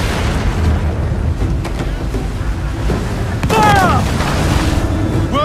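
Cannons firing in a naval battle in Assassin's Creed Black Flag, deep booms rolling through a dense roar of battle noise, with shouted voices breaking through over the din.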